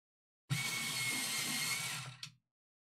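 An electric sharpener grinds a colored pencil in one continuous burst of about two seconds, a close, buzzing whir that ends with a brief final grind.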